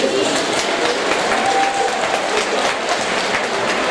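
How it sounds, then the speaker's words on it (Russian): A concert audience at a Victory Day veterans' event in Bendery bursts into steady, dense clapping that holds at a strong level throughout, with faint voices mixed beneath. "если вы будете поддерживать меня своими аплодисментами..."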